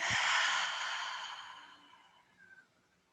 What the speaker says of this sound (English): Take a big breath in through the nose. And breathe it out the mouth.